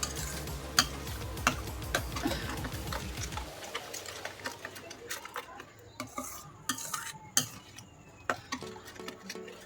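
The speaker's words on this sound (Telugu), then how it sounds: "చక్కెర వేసి మాడకుండా బాగా కలుపుకుందాం" Tomato ketchup thick with sugar cooks in a pan while a spoon stirs it continuously, with rhythmic scraping and sharp metallic clicks and taps against the pan, close and moderately quiet.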